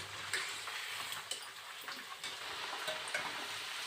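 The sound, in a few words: potatoes frying in a pan for pickle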